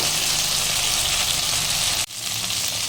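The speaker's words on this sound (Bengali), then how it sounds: "আমি এটাকে একটু ভেজে নেব।" Boiled taro and potato fry in a pan with a steady, loud, close sizzle, with a brief dip near the end before the hiss resumes.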